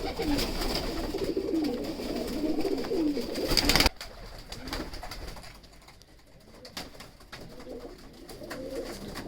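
Sialkoti pigeons coo softly and steadily amid a busy outdoor background, with some faint rustling and a sudden quieter stretch partway through.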